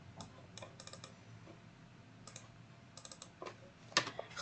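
Someone types on a computer keyboard, with quiet, irregular bursts of key clicks and taps, faint and close, ending in a slightly louder keystroke.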